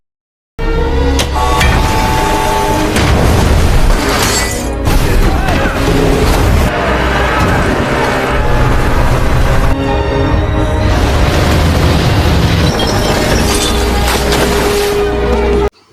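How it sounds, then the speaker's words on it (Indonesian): Nuclear bomb explosion aboard a ship in a film: a sustained, loud, rumbling blast with crashing debris and roaring texture continuing for about fifteen seconds, with no clear speech. "dampak ledakan yang akan ditimbulkan oleh bom nuklir"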